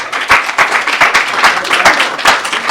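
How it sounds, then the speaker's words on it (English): An audience at a youth jobs campaign launch event claps in sustained applause, dense and fairly loud, with no talking over it. "Round of applause"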